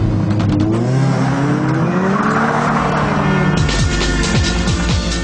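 Ford Racing Puma, a limited-run hot hatch based on the Ford Puma, revving hard and accelerating with rising and falling engine pitch through gear changes, loud and close with a tire squeal, no voices.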